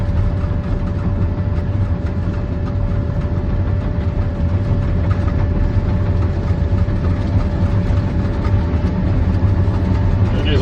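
A Cat dozer on auto steer, run with Trimble Earthworks steering assist and hands off the blade and wheel, gives a loud, steady, close engine rumble with a constant drone and no break throughout.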